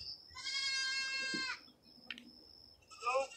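A goat bleats nearby in a long, wavering, nasal cry, followed by a brief thump and a second shorter bleat, with quiet farmyard background between the calls.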